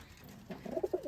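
A male pigeon, kept with pigeons at a home loft, coos in a quick run of low rounded pulses that start softly and grow stronger, fairly close and alone.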